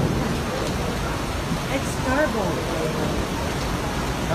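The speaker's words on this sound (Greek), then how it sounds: "Λίγα λεπτά σφοδρής βροχόπτωσης ήταν αρκετά για να αναγκάσουν το Διεθνές Αεροδρόμιο Ηρακλείου να κατεβάσει ρολά" Heavy rain pours down at Heraklion International Airport in Crete, a steady dense hiss of downpour that runs throughout while a voice briefly speaks over it.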